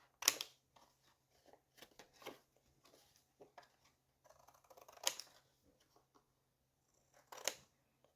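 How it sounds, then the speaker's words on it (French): Scissors trimming excess card from the back: a few quiet, sharp snips spaced seconds apart, with soft rustles and handling clicks between them, close and otherwise silent. "je vais venir couper ce qui dépasse par l'arrière"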